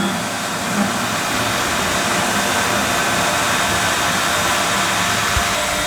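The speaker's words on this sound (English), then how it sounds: "Pump is running" An AstraPool pool filter pump running, a loud steady broadband whir and hum that holds constant throughout with no talk.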